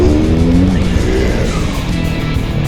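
A Honda ADV160 scooter rides along a smooth paved road, with steady, loud engine drone and road and wind rush filling the whole stretch without a break.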